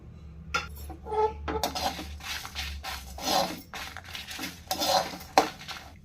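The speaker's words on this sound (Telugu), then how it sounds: "స్టవ్ వెలిగించి ఒక కడాయి పెట్టుకున్నాం కదా, వీటన్నిటిని కూడా కొద్దిగా డ్రై రోస్ట్ చేసుకోవాలండి." Spices and red chillies dry roasting in a kadai on the stove, heard as repeated scraping and clinking of a spoon against the metal pan, close and continuous, with no talk.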